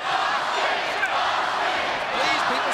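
A sold-out wrestling arena crowd at Arkansas State roars in a dense, continuous wall of cheering and shouting, loud and sustained throughout.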